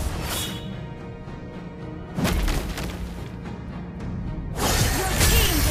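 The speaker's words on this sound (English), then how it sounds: "Your team destroyed a turret." Mobile Legends gameplay with a turret being destroyed, heard as a burst of game effects: a loud impact and crumbling crash mid-clip, then a second swelling blast near the end, over continuous game music and ambience.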